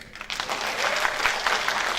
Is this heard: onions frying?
no